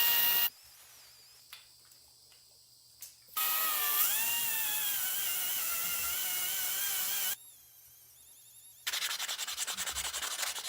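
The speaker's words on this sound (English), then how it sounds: "And the angle grinder." An angle grinder polishing a rusty axle end, running in long loud bursts with a high shrill whine that shifts in pitch under load, separated by quieter gaps; no talking.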